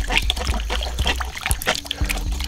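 Tomato seed pulp being stirred by hand in a container of water, giving a close, continuous sloshing and trickling swirl with small splashes.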